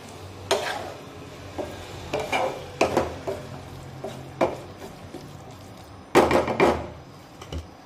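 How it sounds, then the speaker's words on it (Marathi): A spoon scrapes and knocks around a pan while salt is stirred into green pea usal, giving irregular close scraping strokes and taps against a faint background. "आता मीठ व्यवस्थित मिक्स करून घेऊ।"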